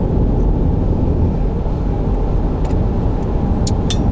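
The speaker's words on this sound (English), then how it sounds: "I'm doing my Monday morning drive to work with Joe." A car drives along on a Monday morning commute to work, its steady, loud road and engine rumble filling the whole stretch, with a few faint high ticks near the end.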